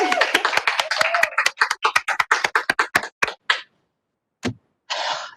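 Virtual applause at a university nursing white coat ceremony held online, a burst of quick hand claps through a video call that thins out into a few scattered claps and a short cheer-like sound.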